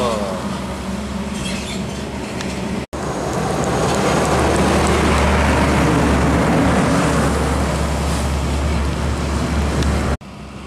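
A Hino container truck passes close on a road, its engine and tyre roar swelling to a loud, sustained rumble that fills most of the stretch before dropping away abruptly.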